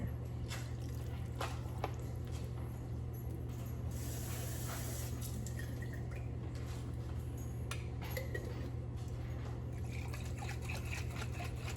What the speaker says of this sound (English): I gotta put a little bit of water in here because it's still a lot at the bottom